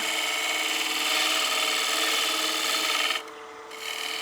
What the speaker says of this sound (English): You could go to like a 1/4 or a 3/8 bowl gouge and just do a little bevel riding push cut.